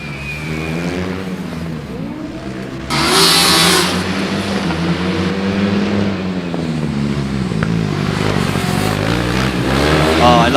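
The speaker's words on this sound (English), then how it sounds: "Oh, I love the sound of the Regensburg car" A Regensburg Formula Student race car accelerates at an autocross event, its engine note rising and falling through repeated revs, loud and close, with a sudden burst of roar partway through and a voice talking faintly underneath.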